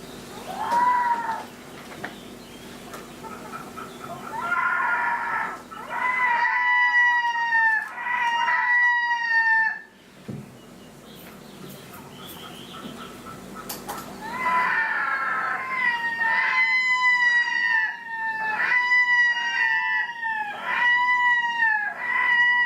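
Recorded wailing call of a wild bird in its upland habitat, a series of loud, drawn-out wavering cries repeated in two long bouts, with a brief pause between them and a faint steady hum beneath.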